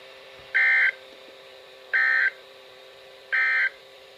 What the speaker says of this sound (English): This ends the test of the National Weather Service weather radio warning alarm.